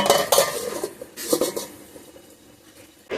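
A metal lid clatters onto a cooking pan of chicken Maharani curry, with a few sharp clanks near the start, another knock around the middle, then quieter pan noise and a final clink.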